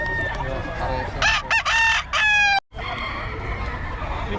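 A bull stag gamecock rooster crows once, loud and close, its call broken into several rising bursts over outdoor background noise, ending abruptly.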